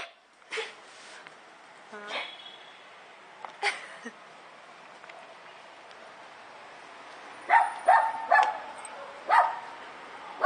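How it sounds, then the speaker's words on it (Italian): A few small dog barks and yips, scattered and somewhat distant, with a louder cluster of sharp barks near the end over faint background noise. "Abbaia, dove sei?"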